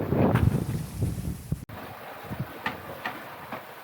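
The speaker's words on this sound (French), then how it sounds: "Donc le vent toujours 20 nœuds bien établi." Wind blows steadily on a sailboat at sea in a 20-knot breeze, a soft rushing hiss with muffled buffeting on the microphone and faint sloshing of water.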